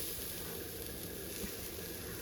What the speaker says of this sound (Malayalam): നമുക്കിനി പീര ഇട്ട് കൊടുക്കാം.